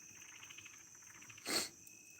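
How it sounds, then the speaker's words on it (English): Small creatures call steadily at dusk in a rural spot, a faint repeated chirping trill with a thin high tone running underneath, broken near the end by one brief louder rustle. "I hear the frogs already starting up"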